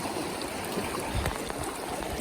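Creek water rushing steadily over rocks at a stream crossing in Lower Grape Creek, a broad, continuous close wash with no voices.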